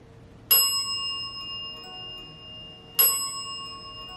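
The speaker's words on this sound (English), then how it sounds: "Would you prefer if we used this bell again in a different room?" Two clear strikes of a hand bell during a ghost-hunting session, each a bright ring that decays slowly, about two and a half seconds apart, in a quiet room.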